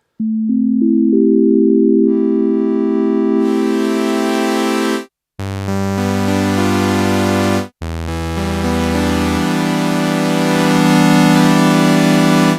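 Pure sine-wave tones from a Modal COBALT8 synthesizer step in one by one, then swell into a dense, bright sustained chord with brief drops to silence and shifting low notes.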